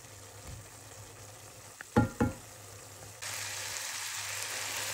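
Pancit noodles sizzle in a pan with a steady, moderate frying hiss, broken near the middle by a couple of sharp clatters, then the sizzle swells louder and brighter for the last seconds.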